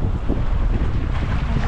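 Water at Saguaro Lake laps and churns, a steady low rush heavy with wind buffeting the microphone, continuous and close with no voices.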